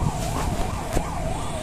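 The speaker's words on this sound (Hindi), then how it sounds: "तो यहाँ पे एक एम्बुलेंस का साइन सुना गया था, तो उसे आगे जाने दिया।" An ambulance siren wails with a rising and falling tone through street traffic at night in a Samastipur market area. It sounds moderately close and rides over a steady rumble of vehicles.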